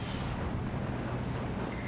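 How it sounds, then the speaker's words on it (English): A mortar round lands in the World War II strategy game Steel Division 2 with a dense, rumbling blast that fills the moment, loud and sustained without a sharp onset. "Take a direct hit from a mortar."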